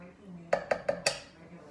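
Four quick metallic clanks ring out in a row as a spoon scrapes and knocks against a pot while pinto or red beans are stirred into turkey chili.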